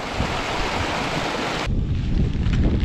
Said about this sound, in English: There's a lot of water coming down today